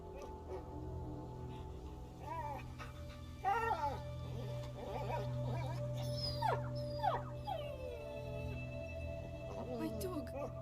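A dog whimpers and yelps in A Plague Tale: Innocence, giving a series of high, wavering whines and short howls over a low ambient rumble, with a voice speaking alongside.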